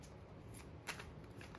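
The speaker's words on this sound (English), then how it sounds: "I'm just doing a quick shuffle." Tarot cards are shuffled briefly by hand, a soft, quick riffling flutter close to the microphone in a quiet room, with no talking.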